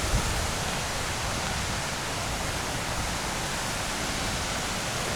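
Brook water rushes steadily on a forest walk on a mountain trail, a dense, even hiss of flowing water that fills the whole stretch without pause, close and unbroken, with no voices.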